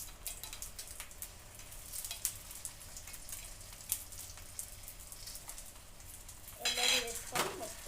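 An egg yolk sizzles softly in a hot pan, a faint crackling hiss punctuated by light utensil taps, then louder clattering near the end.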